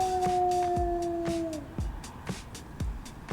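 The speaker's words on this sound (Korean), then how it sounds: "오 뭐야 하울링" A long, steady werewolf howl from the horror game Shadows of the Werewolf rings out loud for about a second and a half, then breaks off, leaving repeated low thuds and knocks in the background.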